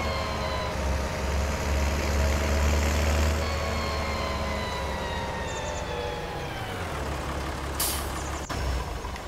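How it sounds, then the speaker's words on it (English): A heavy tractor engine idles steadily in Farming Simulator 19, a low constant drone with a faint high whine layered on top and no speech. "Park this tractor."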